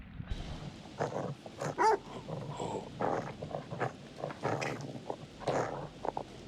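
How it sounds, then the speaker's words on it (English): A dog in The Devil In Me horror video game growls and lets out several sharp barks in irregular bursts, close and fairly loud. "I'm not hitting a dog."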